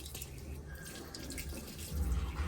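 Hands being washed under cold running water from a tap in Manali, a steady close splashing flow that grows fuller toward the end, with no talk.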